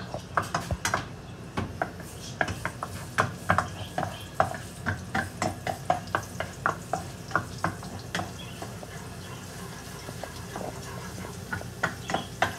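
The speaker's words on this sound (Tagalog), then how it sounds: "Karon ibutang na to ang ibilagay natin ang bawang." Garlic cooking in a pan amid a soft sizzle, with frequent sharp clinks and scrapes of a utensil stirring against the metal pan, close and clear.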